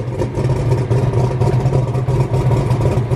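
A tuned performance car engine idles steadily at a test track after an idle adjustment, a loud, continuous low rumble with slight lumpy pulsing and no talk over it.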